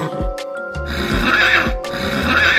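A cartoon horse gives a loud, close neigh, a rising and falling whinny with breathy snorts, accompanied by a few hoof clip-clops.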